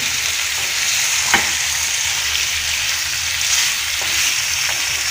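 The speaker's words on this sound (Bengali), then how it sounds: "আমি মাংসটা মশলার সাথে মিশিয়ে তারপরে ঢেকে দিব।" Beef for a royal shahi korma is mixed with spices in a pot, making a loud, steady sizzle like hissing rain with occasional scrapes and knocks of a stirring spoon, with no talking.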